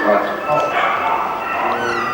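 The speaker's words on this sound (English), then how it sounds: "puppies and kittens whimper and huddle together in boxes" Frightened dogs at an RSPCA animal shelter yip and whimper continuously, heard under a steady narrating voice in a 1988 television news item.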